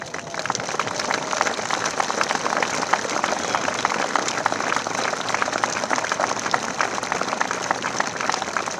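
Sustained audience applause at a Swiss wrestling festival, a dense, even patter of many hands clapping continuously, sounding rain-like and steady throughout.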